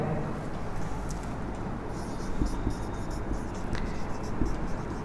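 Marker or chalk writing on a board during a Hindi general-knowledge lesson about Rajasthan, a steady close scratching and squeaking of strokes over a low room hum, with no talk.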